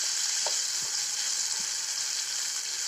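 Onions and ginger-garlic paste fry in a hot pan with a steady, close sizzle throughout, broken by a few soft scrapes and knocks as the mixture is stirred.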